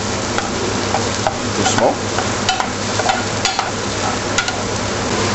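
Shallots sautéing in a pan beside duck breast, a continuous loud sizzle with stirring scrapes and small pops, and one brief soft spoken word.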